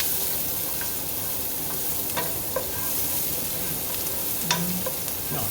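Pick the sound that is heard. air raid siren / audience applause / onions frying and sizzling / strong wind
onions frying and sizzling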